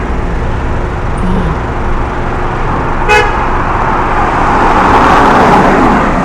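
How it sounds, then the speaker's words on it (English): Continuous roar of New York City street traffic with cars passing close by, a short horn toot partway through, and the rumble swelling louder toward the end. "Cars coming."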